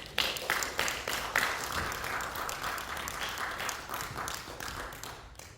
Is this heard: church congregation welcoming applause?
yes